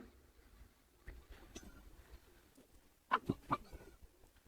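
Soft, low cooing from a large male pigeon, a few short burbling calls near the end over faint background noise.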